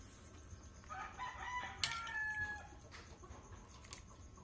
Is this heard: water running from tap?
no